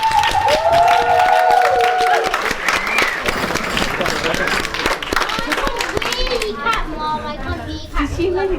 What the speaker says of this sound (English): give a massive round of applause for the father of the bride